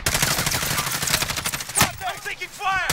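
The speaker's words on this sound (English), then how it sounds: "I'm taking fire." Rapid gunfire from a Modern Warfare Warzone match, dense bursts of shots crackling continuously through the clip with a sharper report near the middle and other game effects layered underneath.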